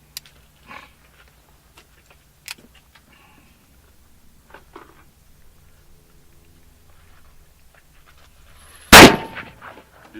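An Uberti 1851 Navy cap-and-ball revolver fires a single loud, sharp shot near the end, preceded by scattered faint clicks and handling noises in an otherwise quiet outdoor setting.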